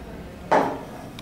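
Sugar dropped into a big vessel with a little warm water to make the syrup for sweet wheat-flour mathri dough: a single brief clatter and rattle, close and fairly loud, which fades quickly into quiet room tone.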